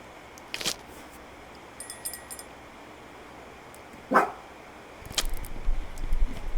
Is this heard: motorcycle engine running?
no